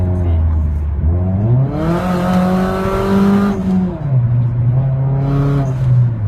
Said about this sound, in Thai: เอาแค่ให้ดูว่า เร่งเป็นอย่างไร